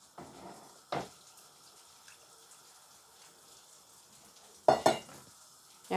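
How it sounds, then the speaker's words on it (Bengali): Fish and broth added to sautéed vegetables in a pan give two loud splashing sizzle bursts over a faint, steady simmering hiss, with no talking. "মাছটা দিয়ে ঝোলও দিয়ে দিব।"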